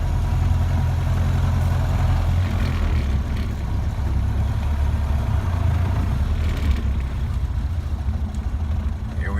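A Ford Model A car engine runs with a steady low rumble, loud and close from inside the moving vehicle, holding an even drone throughout.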